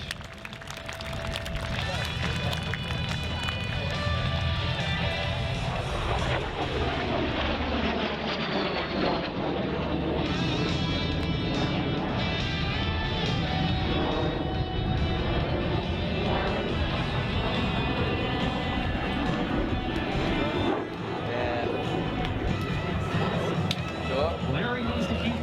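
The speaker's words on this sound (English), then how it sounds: "this aircraft burns 200 gallons of Jet A fuel an hour" A jet-fuelled aerobatic airplane flies Cuban 8 maneuvers at the 2021 Great State of Maine Airshow, its engine a loud, continuous roar that sweeps and shifts in pitch as the plane loops past, with crowd noise beneath.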